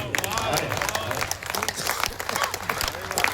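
Audience applause at a Hindi poetry recital during an all-India kavi sammelan in Bhagalpur, a steady spread of claps that lasts about three seconds, with voices and cheers mixed into it.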